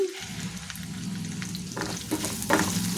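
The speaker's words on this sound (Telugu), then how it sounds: "దీంట్లోకి కొద్దిగా ఇంగువ కూడా వేసుకుందామండి కొద్దిగా పొంగించుకుందాము ఇంగువని" Tempering of curry leaves, dry red chillies, garlic and asafoetida frying in hot oil for tamarind-leaf dal, a steady close crackling sizzle with a few louder spattering pops toward the end, no talk.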